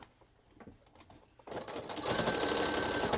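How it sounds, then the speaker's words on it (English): A sewing machine stitches two cheap neckties together along their full length, starting quietly and then settling into a loud, steady, continuous run. "I just sew down the whole tie"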